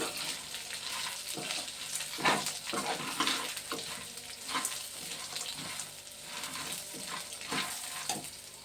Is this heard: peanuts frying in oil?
yes